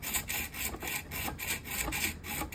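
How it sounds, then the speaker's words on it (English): Rhythmic scraping strokes of a chisel cutting into a plastic power adapter being disassembled, about eight even rasping passes in a steady back-and-forth rhythm, close and moderately loud with no talking. "it will help my chisel dig deeper and actually get further into the adapter"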